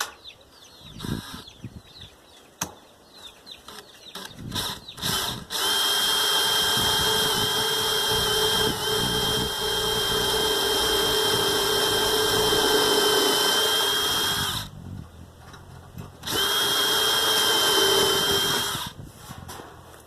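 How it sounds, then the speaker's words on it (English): A power drill whines loudly for several seconds as it bores into a wooden bee coop, pauses, then drills again, with some clunking handling noises before it starts. "so we want to drill right here"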